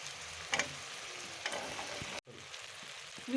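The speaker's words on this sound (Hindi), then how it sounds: "तो चलिए अब हम इसमें आलू शामिल करते हैं" Potatoes and peas frying in a pan for an aloo matar dish with egg, giving a steady close sizzle with a few brief louder crackles and a short break near the middle.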